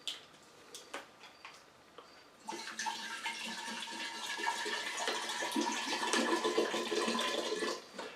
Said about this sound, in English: I'm gonna put another bottle of water in there.